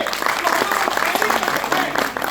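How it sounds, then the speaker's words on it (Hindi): Trainees at a group orientation course applaud an officer with a loud burst of hearty clapping, dense and close, while voices can be heard mixed in beneath the claps. "एक बार जोरदार ताली सर के लिए"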